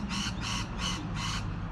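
Four harsh crow caws in a steady row in a park, fairly close, over low background rumble.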